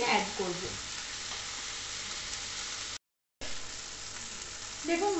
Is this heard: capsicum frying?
yes